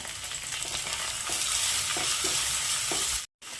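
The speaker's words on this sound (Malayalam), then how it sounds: "ഇനി ഇതിലേക്ക് കുറച്ച് കറിവേപ്പില കൂടെ ഇട്ട് കൊടുക്കുന്നുണ്ട്" Curry leaves with onions, ginger and garlic sautéing in a pan for a roasted-coconut chicken curry, a loud steady sizzle with rhythmic stirring scrapes, close up, cut briefly near the end.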